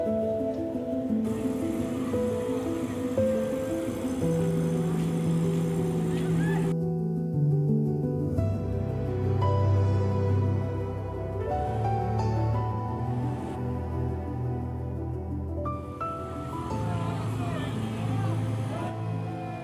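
A tourist service boat's motor runs on the Valapattanam river near the Parassinikadavu temple in Kannur, Kerala, droning steadily and fairly close for the whole stretch, its pitch shifting slightly as the engine speed changes.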